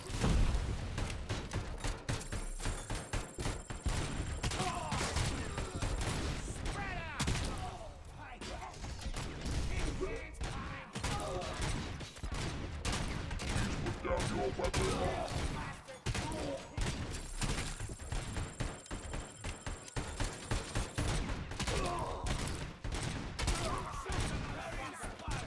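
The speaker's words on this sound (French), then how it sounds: "Il me tire dessus là." Sustained gunfire in Robocop Rogue City, with rapid bursts of shots and mechanical clatter continuing through the clip, mixed with game music and someone talking over it.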